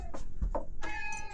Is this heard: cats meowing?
yes